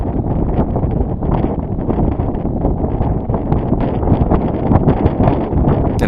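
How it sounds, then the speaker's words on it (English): Steady, loud wind roars across the microphone throughout, broadband and unbroken, while a sailboat on a port tack heels in building breeze with no voices. "And again, the winds, pick up pretty good."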